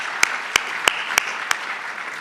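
A handful of scattered, separate handclaps from an audience at a New York governor's speech, about five sharp claps spread unevenly over a couple of seconds against a steady room hiss.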